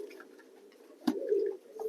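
Pigeons, including fantail pigeons, give low throaty coos, a steady soft burr broken by a sudden flap-like burst and a louder coo near the middle, heard close with no speech.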